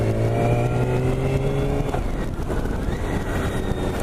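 A 2018 BMW K1600 GT six-cylinder motorcycle engine revs up close and loud, then settles into a rough, busy idle.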